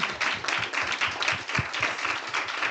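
Audience applause after a talk, a dense steady wash of many hands clapping at moderate volume for nearly three seconds, with no voices over it.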